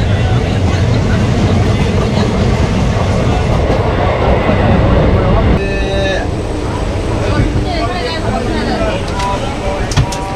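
The 13466 Intercity Express runs along the line, a loud continuous rumble and rattle of the carriage with rhythmic track clatter, and a voice can be heard talking over part of the noise.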